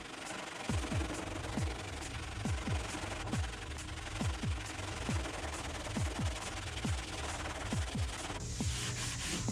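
A sanding block scrubs Bondo body filler on a car in quick, rhythmic back-and-forth strokes, each sweep a gritty rasp, close and steady throughout with no voices.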